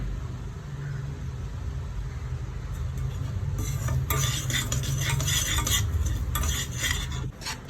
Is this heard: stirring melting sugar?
yes